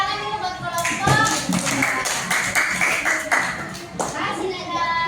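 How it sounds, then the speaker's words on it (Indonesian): A classroom of children claps for a group, a quick burst of close, sharp hand claps with scattered taps and a voice mixed in. "Tepuk tangan dulu buat kelompok"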